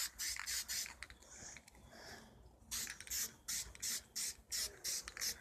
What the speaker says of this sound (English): I'm going ahead and spray paint this.